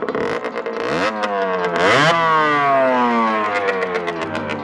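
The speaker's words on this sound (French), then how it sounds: "je vais vous faire écouter la moto depuis le côté" A 50cc supermoto motorcycle engine heard from the side, revving up and dropping back in repeated rising and falling sweeps, then holding a steady, loud, buzzy idle-to-mid rev with no talking.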